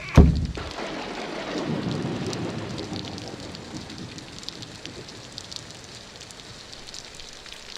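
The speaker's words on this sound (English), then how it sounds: "The first raindrops splashed onto the roof of the ark." A sharp crack of thunder opens into a long rumble, followed by steady heavy rain pattering on a surface, loud and enveloping.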